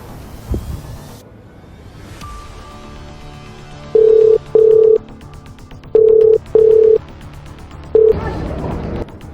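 A phone call attempt: a rising tone, then a steady dial tone, followed by five evenly spaced ringback or dialing beeps, loud and clear, with a burst of noise at the end.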